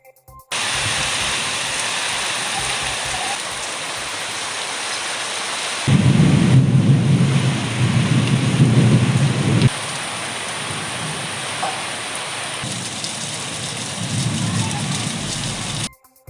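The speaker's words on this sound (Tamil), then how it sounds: "பலத்த காற்றுடன் கனமழை பெய்தது" Heavy rain with strong wind and thunder in Ariyalur district, Tamil Nadu, roaring loud and continuous, with a deeper rumbling surge in the middle and lighter gusting stretches around it.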